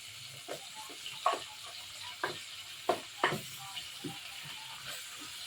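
Garlic and onions sizzle in frying oil, a steady crackle broken by sharp scraping stirs and clinks of a utensil against the pan, close and moderately loud, for a green leafy vegetable dish with fried fish.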